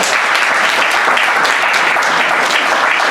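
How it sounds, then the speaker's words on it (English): A crowd at a boxing press event gives loud, sustained applause, a continuous wash of many hands clapping close by with no pauses. "let's give him a big round of applause"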